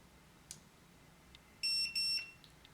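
Electronic keypad deadbolt giving a pair of short, bright electronic beeps once its set button has been held down. The beeps are close and clear, with a couple of faint clicks just before them.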